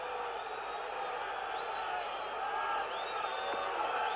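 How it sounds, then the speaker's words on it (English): A football crowd in a stadium reacts to a late foul during a European Cup Winners' Cup match between Milan and Leeds: a steady, distant roar of many voices with faint whistles, with no clear peak. "listen to the reaction of the crowd"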